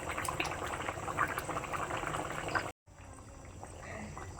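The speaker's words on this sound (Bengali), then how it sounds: "দেখো বন্ধুরা আমার জল হয়ে যেতে ফুটে উঠেছে ঝোল" A pot of fish curry broth with taro at a steady rolling boil, bubbling continuously and close at low volume, with a brief dropout partway through.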